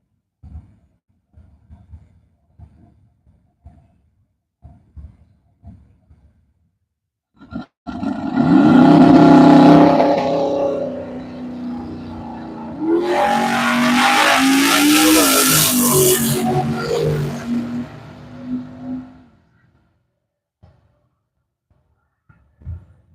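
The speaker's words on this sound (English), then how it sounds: "Dan was hanging the tires on that little S10, boy" A Chevrolet S10 launches in a drag race at a racetrack, its engine roaring loudly for a couple of seconds, then a second long roar of hard acceleration, with scattered faint knocks and rumbles before and after.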